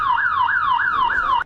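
A house alarm set off on purpose at a home on Peach Avenue in Van Nuys wails in a loud, steady rising-and-falling siren, four even sweeps repeating before it cuts off abruptly.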